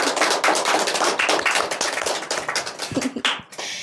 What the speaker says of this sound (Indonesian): Beri tepuk tangan yang meriah untuk Bapak Agus Istiadi